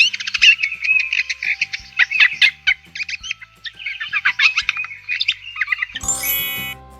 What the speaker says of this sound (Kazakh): jay.